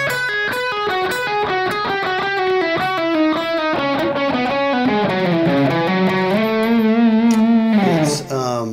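Heavily distorted electric guitar runs through a triplet-based hard rock lick from a solo at medium tempo, a continuous stream of even notes, loud and alone, ending with a brief drop.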